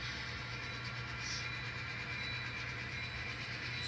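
N scale model train locomotives idle and run in a yard on a model railroad layout, giving a continuous low motor hum with a faint rolling rail whir, steady and close, with no talking.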